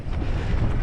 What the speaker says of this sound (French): Face au vent là. Plein vent.